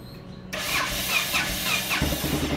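A motorcycle that had sat parked for over a month cranks and catches, its engine bursting into a steady mid-pitched running note that holds close and loud.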